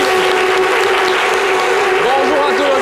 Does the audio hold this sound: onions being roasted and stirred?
no